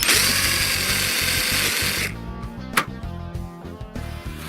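A power drill whines loudly for a couple of seconds, then stops, followed by lighter clatter and handling noises.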